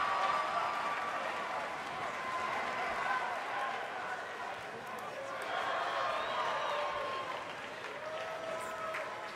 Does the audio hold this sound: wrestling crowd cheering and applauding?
yes